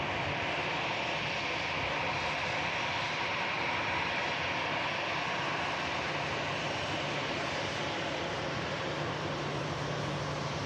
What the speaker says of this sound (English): Finnair coming in from Helsinki